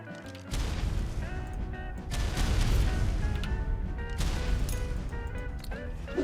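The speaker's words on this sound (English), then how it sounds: "throw out grenades at whim, I can do just that" Grenades burst in a video game firefight, loud booming explosions mixed with rapid gunfire over a steady musical score, with no quiet gaps.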